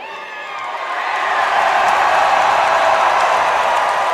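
A wrestling show crowd roars in a steady, dense wash of cheering and applause that swells and holds loud throughout, with a faint voice mixed underneath.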